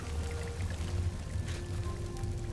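Water pouring down steadily in a video game city, a continuous rushing wash at moderate distance with a faint low rumble beneath and no speech.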